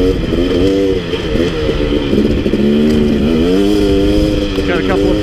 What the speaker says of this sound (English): Today I'm riding the KTM